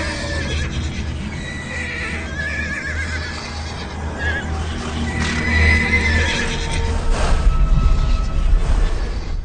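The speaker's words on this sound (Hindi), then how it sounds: "तब तुम मेरे लिए घोड़ा चुन सकते हो। इन घोड़ों में से सबसे बेहतरीन घोड़ा।" Horses neigh and whinny in an outdoor film scene, several overlapping calls near and far over a steady rumble with shuffling hooves, growing louder toward the end.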